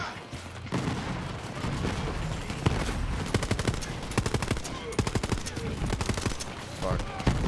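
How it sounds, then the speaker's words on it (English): Rapid video game gunfire from Borderlands 3 rattles in dense automatic bursts and single sharp shots. Booms sound at several distances and the firing stays loud and continuous throughout. "There's so much fucking gunfire from everywhere."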